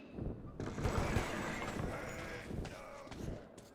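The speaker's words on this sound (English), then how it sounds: "A flock of birds came to see us!" Flock of birds calling in the video game Metro 2033 Redux, a dense cawing and bleating chatter that swells and stays loud throughout, with no talk over it.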